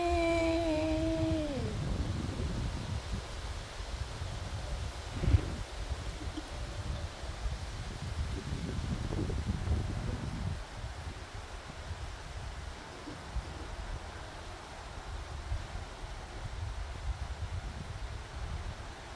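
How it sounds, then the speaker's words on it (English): Wind blows outdoors beside a pond on a cool evening, making a steady, low, rushing rumble across the microphone with soft rustling that stays constant throughout. "much cooler tonight with the wind blowing"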